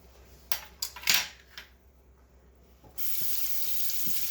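A tap runs for hand washing after handling raw eggs, starting with several sharp splashes and clatters before water pours in a steady close stream for the last second or so.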